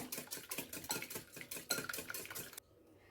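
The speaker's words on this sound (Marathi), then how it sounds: "आणि अंडी छान अशी फेटून घेऊया" Eggs, six in all, whisked briskly in a bowl for a bread omelette, a quick run of rapid rhythmic clinking strokes up close, stopping abruptly near the end.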